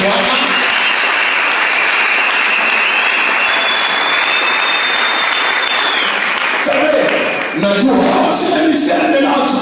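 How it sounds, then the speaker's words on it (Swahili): A church congregation acclaims the Lord with loud, dense applause and cheering that fills the space for several seconds, then shifts into mixed crowd voices and shouts. "Est-ce qu'on peut acclamer le Seigneur?"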